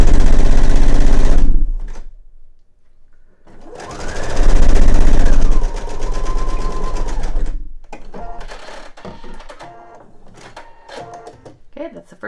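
Sewing machine stitching the first line on a fabric eye pillow, loud and close, with rapid needle chatter and motor whir in bursts, then a stretch of slower clicking and handling. A voice speaks between the bursts.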